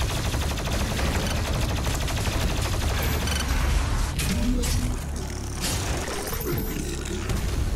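Doom Eternal's weapon alternate fire hammers out in a dense, continuous barrage of rapid loud shots, with roaring impacts and mechanical clatter layered over the constant blasting.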